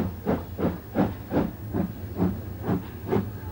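A steam locomotive on the West Highland line chuffs in a steady rhythmic beat of sharp exhaust bursts, about two per second, with hissing steam between them, fairly close and without talking.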